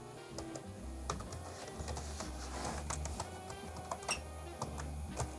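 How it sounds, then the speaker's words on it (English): Keys clatter at random on the keyboard of a 1970s Z80 computer, a steady run of close, crisp clicks over a low electrical hum, with no talking. "I just sort of started hitting keys at random."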